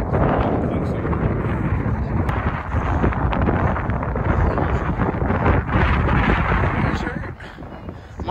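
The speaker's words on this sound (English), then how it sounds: "I think it's the wind." Wind gusting over sand dunes beside Lake Michigan, a loud, continuous broadband roar buffeting the microphone for the whole stretch, with people's voices faint beneath it.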